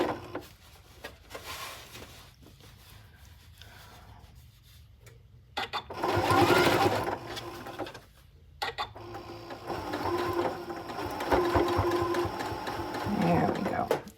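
A home sewing machine stitching the seam of a DIY pillowcase runs in quiet bursts of rapid whirring, pausing between runs, with a person speaking softly over it.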